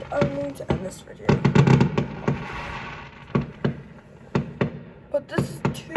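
Bonfire Night fireworks in the UK crack and bang repeatedly at varying distances, sharp irregular reports with a hissing wash between them, heard outdoors.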